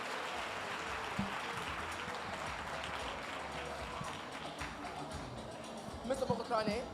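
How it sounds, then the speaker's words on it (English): Audience applause at a Free State gathering honouring a municipal official, a steady dense patter of many hands that holds for several seconds before sparser claps and a voice break through near the end. "Can we please give him a round of applause, everybody?"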